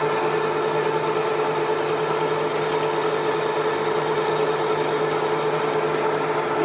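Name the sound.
milling machine cutting metal with a Sandvik insert at 550 RPM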